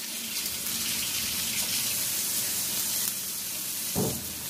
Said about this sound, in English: are going to add some mushrooms. So let me rinse a few of these off.